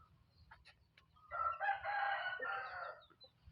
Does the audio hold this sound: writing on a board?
no